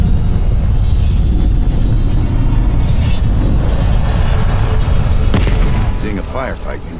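Gunfire and explosions from the Call of Duty Black Ops Cold War game, heard as a heavy, continuous rumble with booming hits and a sharp burst near the end, while voices talk over it in the final seconds.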